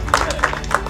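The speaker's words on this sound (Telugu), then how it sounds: "మా రామకృష్ణ గారికి అందరూ ఒకసారి గట్టిగా చప్పట్లు కొట్టేసి డిన్నర్ చేసేసి వెళ్దాము" Audience at a real estate developer's event in Telugu-speaking company applauding in a brief burst of clapping, with a voice talking over it.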